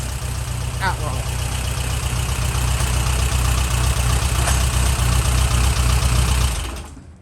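A Porsche Speedster replica engine idles steadily close by, a continuous low rumble holding even for several seconds before cutting off near the end, with a voice briefly heard over it.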